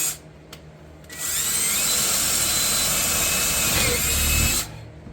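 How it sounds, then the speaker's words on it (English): A power drill bores tuner holes in a cigar box guitar neck, spinning up to a loud steady whine for about three and a half seconds before stopping, with short taps beforehand. "So all I get is just drill these out."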